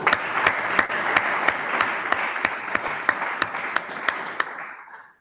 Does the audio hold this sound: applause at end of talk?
yes